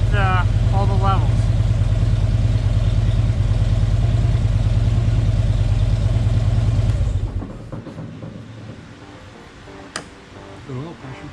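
A Harley-Davidson Touring motorcycle engine idles after an oil change, a loud, steady, throbbing rumble that runs for about seven seconds and then cuts off. A quiet, hollow garage atmosphere follows, with a faint click near the end.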